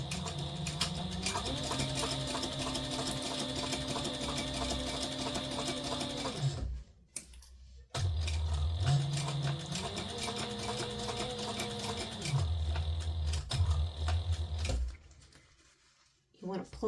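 A sewing machine stitches a zipper pouch in two long bursts of fast, rattling needle strokes, close and loud. A short silent gap separates the bursts, and the speed shifts as the seam is backstitched.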